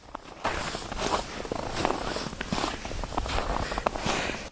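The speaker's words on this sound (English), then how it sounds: "As your footsteps over the fresh snow, it makes this amazing sound which no microphone can capture." Footsteps crunching on fresh snow during a winter trek in Leh, a steady run of close, textured steps with nobody talking.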